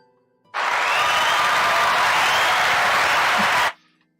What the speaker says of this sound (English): And the entire room begins applauding him.